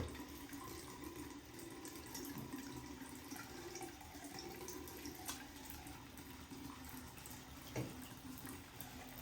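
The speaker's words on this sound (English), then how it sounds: "The water here just gets so hot." Hot water runs steadily from a sink tap while a doll is being washed, a continuous close splashing stream with a brief clatter near the end and no talking.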